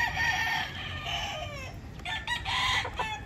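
A gamecock stag in a backyard fighting-rooster flock crows and clucks nearby, its calls rising over constant farmyard background noise.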